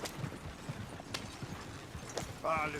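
Horses running in the Red Dead Redemption 2 video game: steady clip-clop hoofbeats over a busy background, then a brief whinny-like tone at the end.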